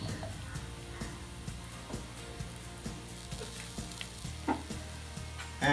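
Ginger-garlic paste and asafoetida frying in a pan for Punjabi-style rajma: a continuous sizzle beneath regular spoon strokes and scrapes, ending on a louder clatter.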